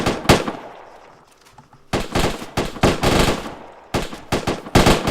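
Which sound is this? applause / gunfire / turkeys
gunfire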